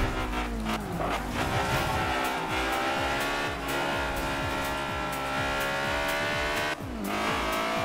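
A Honda S2000 Fast & Furious Edition races flat out in Forza Horizon, its engine wailing at high revs almost continuously, with gear changes and brief tire squeal mixed into the loud, dense roar.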